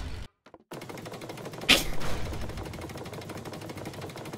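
Animated tanks and soldiers open fire in a cartoon war scene, a rapid, continuous machine-gun rattle with one louder blast, close and alone after a brief silence.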